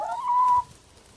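A black rooster among friendly backyard chickens gives a single drawn-out, rising call lasting about half a second, close and moderately loud, then fades into quiet outdoor background.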